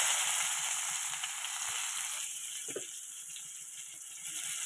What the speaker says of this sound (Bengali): এবার আমি এই তেলেতেই দিয়ে দেবো বেশ কিছু পেঁয়াজ